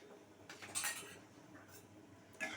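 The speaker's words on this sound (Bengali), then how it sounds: "খুব ভালোভাবে আমি এখানে মিশিয়ে নিচ্ছি" Poppy seed and mustard paste being mixed with eggplant in a pan, a few short clinks and scrapes of a utensil against the vessel over a quiet background.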